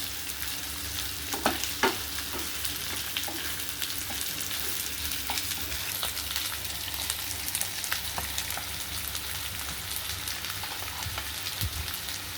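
Brain pieces frying in a pan and being turned gently, giving a continuous soft sizzle with scattered light scrapes and taps, close but fairly quiet, with no voices.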